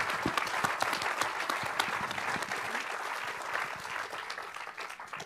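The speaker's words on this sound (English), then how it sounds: "if we can just give them one round of applause just for doing a great job" Audience applause at a live science event, a steady dense patter of many hands clapping that holds for several seconds and tapers slightly at the end.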